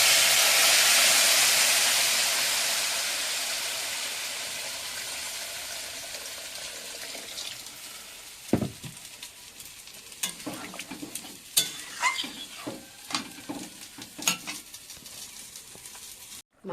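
A pan of Bengali fish curry sizzles strongly at first, the hiss easing as water goes in, followed by scattered stirring knocks and bubbling; no voices.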